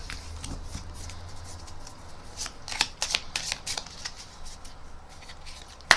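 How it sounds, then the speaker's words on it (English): Playing cards riffle and snap in repeated bursts as a deck is shuffled close by, ending with a sharp tap. "take the pack and shuffle these cards as much as you like and in any way that you like"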